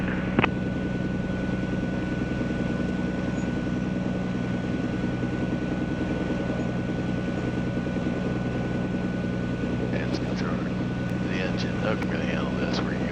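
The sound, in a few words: Cirrus SR22T aircraft engine running up to 1700 RPM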